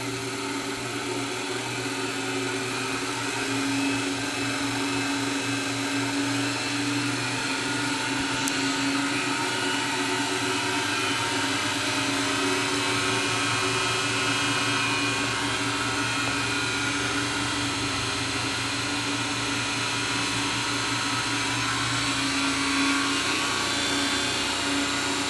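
An electric motor on a free energy generator spins at about 2200 RPM with a steady, loud whine and hum, a constant drone with a low tonal buzz that drops away near the end.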